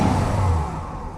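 A 1970 Mercury Cyclone GT with a 429 V8 runs close by, a loud low rumbling engine note that eases off slightly partway through the short burst.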